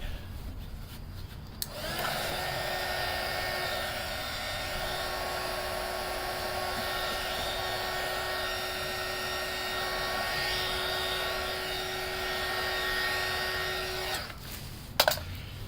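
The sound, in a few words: heat gun heating a mirror cap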